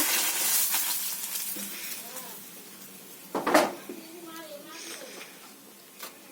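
Rohu fish frying in hot oil in a pan, a faint steady sizzle under someone speaking, with a sharp clatter of a utensil against the pan midway and a few softer knocks.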